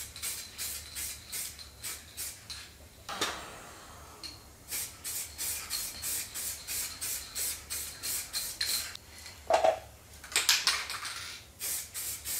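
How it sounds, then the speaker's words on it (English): Primer sprayed from a rattle can onto a car body during a damage repair: short hissing bursts repeat in a quick, steady rhythm, fairly close and loud, with a few sharper clatters and no talking. "Now we're going to be putting on the primer."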